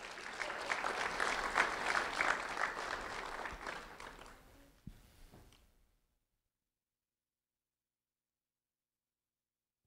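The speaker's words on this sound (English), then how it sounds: "a round of applause for Anika Luis" An audience applauds a second-grade student being honored at a county sheriff's office recognition event, with dense, lively clapping that fades out after about five seconds and then gives way to silence.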